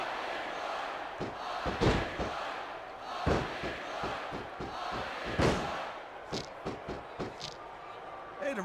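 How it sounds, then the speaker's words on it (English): Arena crowd cheers in a SmackDown vs Raw wrestling video game, a rolling roar of fans punctuated by repeated heavy thuds and slams from the ring, rising and falling over several seconds. "I can't remember the last time I've seen a crowd so pumped up."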